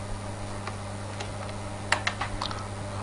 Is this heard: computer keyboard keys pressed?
yes